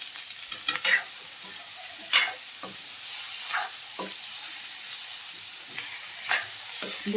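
Cauliflower stirred into a spice masala frying in hot oil, a steady sizzle broken by intermittent scraping stirs, close up with no talking.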